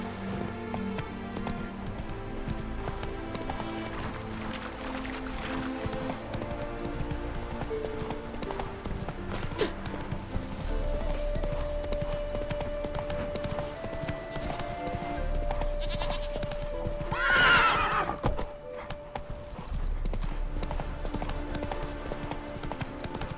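Horse hooves clip-clop at a steady walking rhythm in The Witcher video game, fairly close and moderately loud over a low ambient game soundscape, with a brief brighter swell late on.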